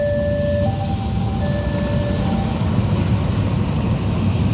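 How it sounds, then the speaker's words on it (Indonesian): A CC206 diesel locomotive from the Cipinang depot passes close, a loud steady low rumble of engine and wheels with a couple of sustained tonal whines, and no speech. "Lokomotif CC206 1370 depo induk Cipinang."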